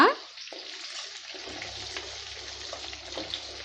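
Drumstick (moringa) pieces sauté in a clay pot for sambar, giving a steady, continuous sizzle with a brief clatter at the very start and a low hum underneath.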